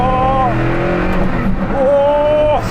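Hennessy Venom F5 hypercar accelerating hard, a loud, close engine note climbing in pitch through two long sweeps separated by a brief gear change.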